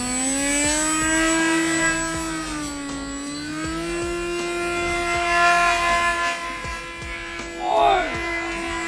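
An RC Mini Skyhunter plane's motor and propeller whine steadily with a high, rising and falling tone on its maiden flight, loud and sustained, with a brief wavering swoop near the end.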